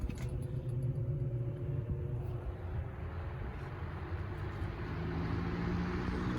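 An antique Westinghouse 16-inch brass blade electric fan with a chipped gear runs with a steady low motor rumble and hum, with a slight shaking quality, continuous and unbroken.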